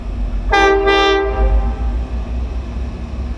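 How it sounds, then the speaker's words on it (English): A loud train horn sounds in two blasts over the low, continuous rumble of a train on the tracks near the train depot at the Grand Canyon. "Look at that train."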